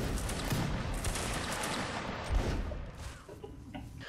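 Musket volley fired by a line of infantry in the video game Mount and Blade Warband Napoleonic Wars: a dense, sustained roar of many overlapping shots crackling together, fading slightly toward the end, with no speech.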